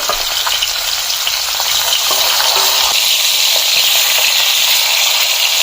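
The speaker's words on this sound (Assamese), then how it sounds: "তেল গৰম হৈ গ'ল এতিয়া আমি এটা মাছখিনি ভাজি লম" Fish frying in hot mustard oil in a pan, a steady, loud sizzle that hisses evenly throughout with faint crackles and no voices.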